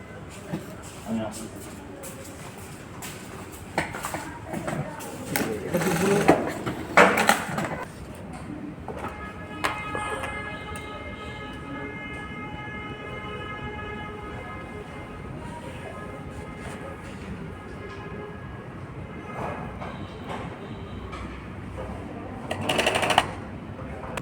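An overlock sewing machine stitches fabric with elastic in a steady, humming mechanical whir through the middle stretch, alongside clattering handling noises and people talking nearby.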